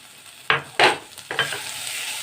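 Grated coconut is fried in oil while being stirred: three distinct scraping strokes of a spatula stand out over a soft continuous sizzle, close up, with no voices.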